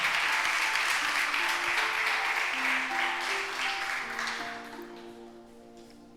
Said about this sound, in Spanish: Dale un aplauso al Señor, porque Él está aquí